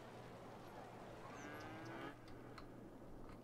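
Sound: cattle mooing in the video game Cities Skylines

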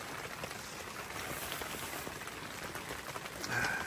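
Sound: rain falling on a campsite

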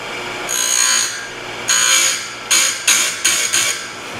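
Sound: Stihl USG chainsaw sharpener grinding a chain tooth

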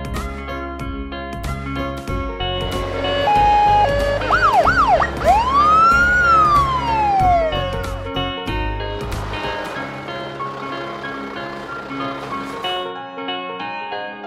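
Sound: police utility vehicle siren

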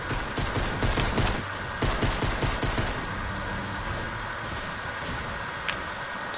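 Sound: gunfire in Fortnite video game

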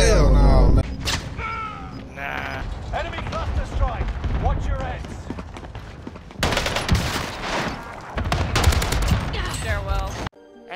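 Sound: gunfire in Warzone video game

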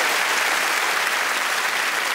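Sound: studio audience clapping

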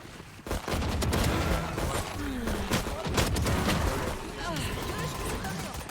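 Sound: gunfire in the video game Valorant

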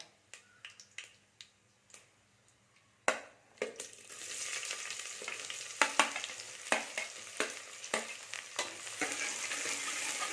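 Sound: onions frying in tempered oil for lamb leg soup

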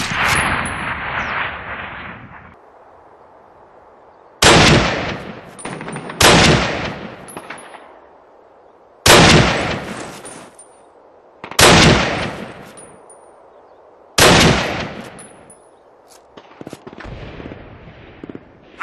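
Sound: gunfire from the video game Call of Duty

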